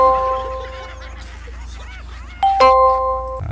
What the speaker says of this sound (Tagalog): May nagdo-doorbell, no?